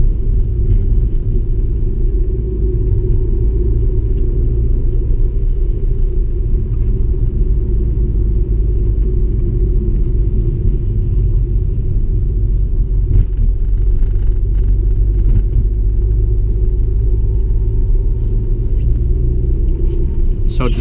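Inside a 2001 Audi S3 8L with its 1.8 liter turbo engine, a constant deep rumble of road and engine noise drones evenly while the car drives at normal pace.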